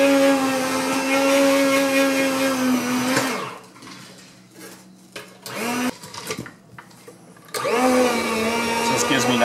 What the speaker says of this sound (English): Got my Krups meat slicer here